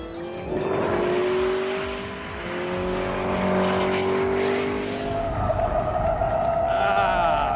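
A 2013 McLaren MP4-12C Spider convertible engine roars at high revs, roof down, while tires squeal in long, wavering screeches, loud and continuous before easing off near the end.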